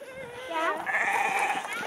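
A sheep bleats loudly and close, a wavering call lasting about a second amid faint outdoor noise.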